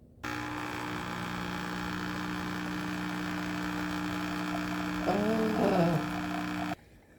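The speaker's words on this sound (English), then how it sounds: "was a bad espresso pull" Espresso machine pulling a shot, a steady loud electric pump hum that starts abruptly, wavers with a gurgling sputter near the end, then cuts off.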